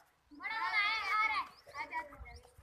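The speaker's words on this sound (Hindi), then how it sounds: "अब बकरा आ रहा है उधर से" A goat bleats in a long wavering call close by, then shorter bleats follow as people talk and children's voices mix in the background.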